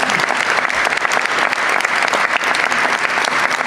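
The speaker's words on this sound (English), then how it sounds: "You can clap." Loud, dense audience applause at the announcement of Nashville as host of the 2034 Special Olympics USA Games, a continuous close wall of clapping with no talk over it.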